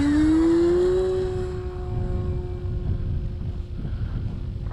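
An E-Flite Commander mPd RC airplane, heard outdoors in wind, holds a loud electric motor whine that drops in pitch as it pulls away, fading into a steady distant drone over breezy background noise.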